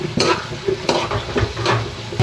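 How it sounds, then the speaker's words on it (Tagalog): Onions sautéing in oil for Filipino menudo, a loud close sizzle punctuated by several sharp spatula scrapes against the pan in an uneven rhythm, no voices. "Gisa lang muna tayo ng sibuyas"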